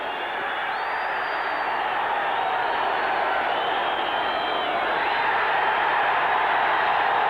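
Boxing arena crowd at a WBO super flyweight bout cheers steadily, a dense continuous roar with scattered whistles that holds level and swells slightly toward the end.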